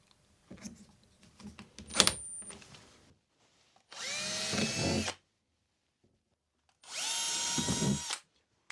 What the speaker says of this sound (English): so I can get it marked out and drill the holes for them.